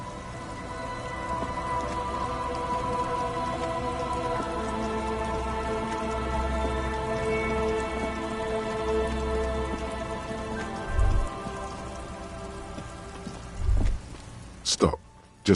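Steady rain falling on a surface, even and continuous throughout, with a few brief louder knocks near the end.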